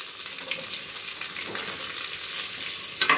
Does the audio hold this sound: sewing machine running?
no